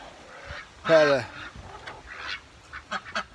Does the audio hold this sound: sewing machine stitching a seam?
no